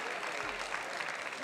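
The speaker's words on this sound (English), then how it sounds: "The oohs and ahs of the crowd here in Chicago." A crowd at a table tennis match in Chicago breaks into steady, continuous applause with a murmur of voices, a short burst heard from within the hall.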